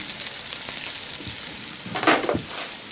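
Mushrooms, carrots and celery sizzle and fry in a pan, a steady close crackle with scattered spatters and a brief louder burst of stirring near the end. No voice is heard.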